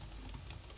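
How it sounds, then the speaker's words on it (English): Brief burst of quick typing on a computer keyboard, a few soft rapid key clicks close by and faint, with no talking. "my typing is so bad today"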